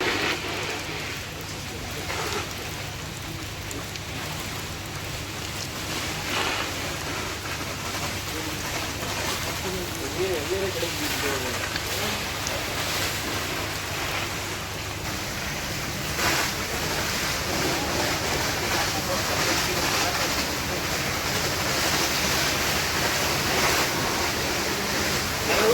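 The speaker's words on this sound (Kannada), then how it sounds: "ಈ ಮಾನ್ಸ್ಟರ್ ರೈನ್ ಗನ್ ಇನ್ಸ್ಟಾಲ್ ಮಾಡಿದ ರೀತಿ ಭಾಳ ಚೆನ್ನಾಗಿದೆ" A large monster rain gun sprinkler on a 100-acre coffee plantation, driven by a 1200 HP motor, sprays water in a loud, continuous rushing hiss like heavy rain, with wind buffeting the microphone and people talking at times.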